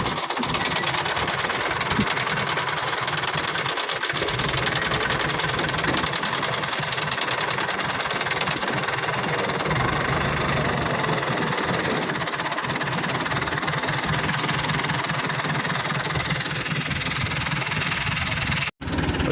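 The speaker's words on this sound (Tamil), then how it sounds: "வண்டி சிலிப்பாவது பாருங்க" Engine of a loaded goods vehicle carrying about four tons, straining and rumbling steadily as the wheels slip, loud and continuous with a vibrating knock, cutting out abruptly near the end.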